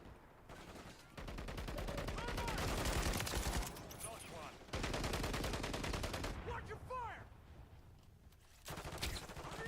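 Sustained rapid automatic gunfire from the Cast-off weapon in Modern Warfare 3, loud close bursts broken by short pauses, with a voice talking over parts of it.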